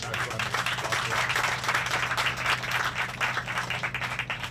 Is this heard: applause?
yes